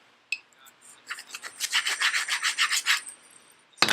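Hand sander or hand grinder smoothing off drill-through spots on a tabletop wargame razorwire terrain piece, a click followed by a steady run of close, rhythmic rasping strokes that ends in a sharp clunk.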